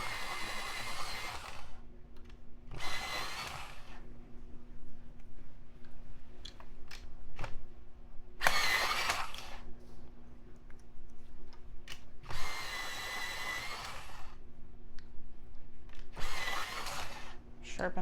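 An electric pencil sharpener grinds coloring pencils in six short, loud whirring bursts of one to two seconds each, separated by quiet pauses with faint handling clicks.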